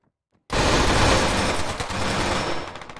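After a brief silence, a sustained burst of automatic gunfire erupts, loud and continuous for about two and a half seconds, as a player pre-fires a corner in a capture-the-flag video game match.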